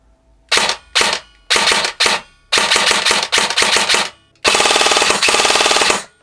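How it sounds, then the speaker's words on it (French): An Evolution E-416 ETU III airsoft electric gun fires several quick bursts and single shots, a loud mechanical rattling buzz in short stuttering groups, ending in a longer sustained burst, up close with no talk. "Bon, ça fait un bruit horrible, hein. C'est un AEG."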